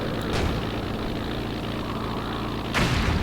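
Distant artillery fire in the strategy game Blitzkrieg Anthology, a steady low rumbling barrage with a sharper boom near the start and another near the end, no voices.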